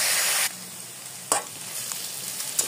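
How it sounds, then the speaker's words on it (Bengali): Cabbage frying in a pan with salt, a bright hiss that is loud at first, then drops to a quieter sizzle with a couple of sharp stirring clinks, and no talk. "বাঁধাকপির মধ্যে সামান্য লবণ দিয়ে এরপর বাঁধাকপিগুলোকে ভেজে নেবো"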